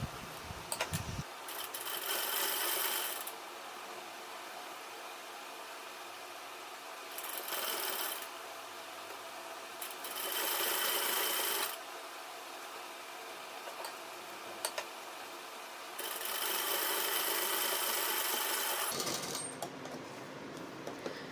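A sewing machine stitching lace onto the sleeves of a lined suit runs in several bursts of steady whirring, each a few seconds long, separated by quieter pauses with faint handling noise.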